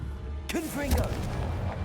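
A Confringo blasting curse erupts in the Hogwarts Legacy video game: one sudden loud burst with bright, warbling magical tones that fade over about a second, with a voice around it.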